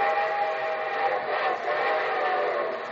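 A steam-style train whistle sounds effect opens The Railroad Hour radio broadcast, holding a steady, loud, chord-like tone for about three seconds with no speech over it.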